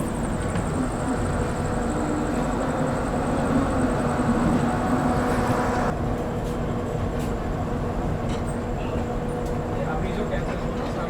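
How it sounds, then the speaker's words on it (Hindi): Vibhuti Express rolling out of Howrah Junction, with a steady low rumble of the moving train throughout and a brighter hiss that drops away partway through. "फ़िलहाल अपना डिपार्चर हो चुका है हावड़ा से अपनी विभूति एक्सप्रेस का"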